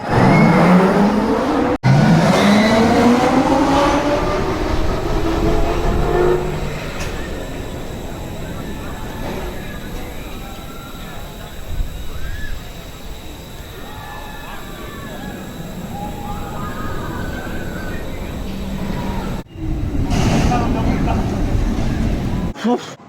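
A roller coaster train at PortAventura thunders along its track, a loud continuous roar with rising rumble at the start and sustained rushing noise throughout, ending with a brief loud burst.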